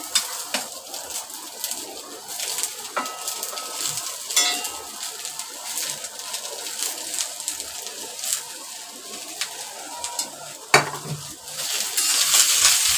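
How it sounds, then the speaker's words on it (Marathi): Onion roasting in a pan for Malvani-style coconut masala, a light sizzle under repeated scraping and clinks of a spatula against metal, with one louder knock near the end; no talking. "मी यातला कांदा घालते आणि कांदा भाजून घेते"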